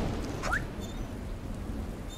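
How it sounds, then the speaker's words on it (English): Steady patter of rain in an old-school action-adventure video game, a soft continuous hiss with a few faint chirps overhead, no voices. "It's a tad rainy."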